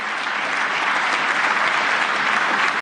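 A large audience at the Munich Security Conference applauds in a steady, loud, continuous burst of clapping that stops abruptly.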